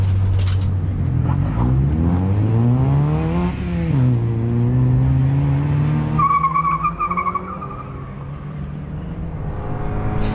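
A Toyota Yaris with new upgrades laps the Curborough Sprint Course, its loud engine revving up and down through the gears as the tyres skid and squeal, alone and close.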